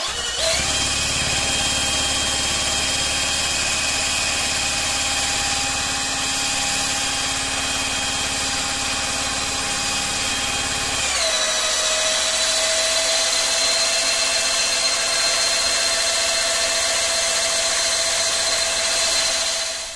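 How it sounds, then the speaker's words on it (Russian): A cordless drill spins a car generator converted for 12 to 220 volts, giving a steady high whine. Partway through, the pitch drops and the tone shifts as the drill takes on load, then it keeps running evenly. "я сначала попробую покрутить аккумуляторной дрелью"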